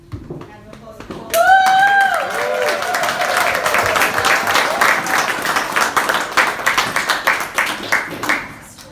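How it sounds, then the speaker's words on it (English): Wedding guests clap and cheer after a vow, a burst of applause with some whoops rising suddenly and going on steadily. Earlier, faint chatter and a voice sit under it. "Round of applause, Paul."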